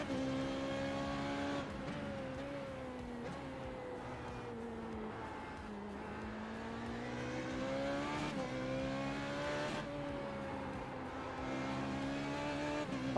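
Formula 3.5 race car engine in iRacing at Spa-Francorchamps, a loud continuous high-revving drone rising and falling through gear shifts and throttle changes, steady and close with no talk over it.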